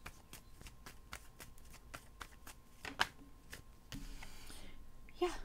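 Tarot cards being shuffled by hand, a quick run of crisp, close riffling snaps and flicks, with a little speech near the end.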